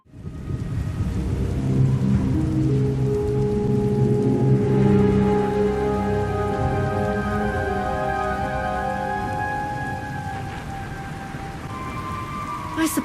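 Heavy rain and rolling thunder from a thunderstorm in the Star Wars: The Old Republic game pour down loud and steady, with a deep rumble swelling and tonal score-like layers beneath.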